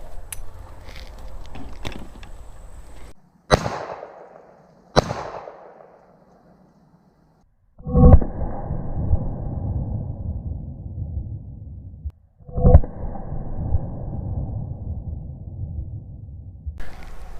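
.45 caliber gunshots are fired into a sheetrock wall: several sharp, loud reports spaced seconds apart, each with a decaying echo, heard close with quieter rumbling between shots.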